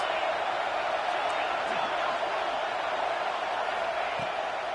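A big college football stadium crowd roars steadily for the defense on a third down, a dense, continuous wash of cheering and noise with no break, loud and filling the space throughout.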